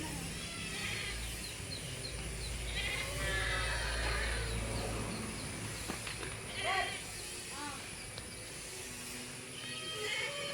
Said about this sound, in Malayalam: നല്ലൊരു മലബാരി ആട്